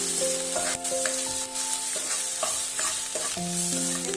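Whole spices with ginger and garlic fry in a pan while a spoon stirs them, giving a steady close sizzle broken by repeated scraping strokes, with no talk.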